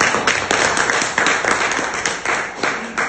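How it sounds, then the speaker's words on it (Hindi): An audience at a training event claps steadily and loudly, a dense, continuous wash of many hands with irregular sharper slaps throughout and no voices above it. "एक बार अपने सबके लिए जबरदस्त तालियां हो जाए।"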